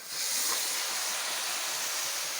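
Masala-coated chicken pieces sizzle in a pan of sautéed onions, giving a steady, bright frying hiss that rises quickly and then holds level throughout, close up, with no talk.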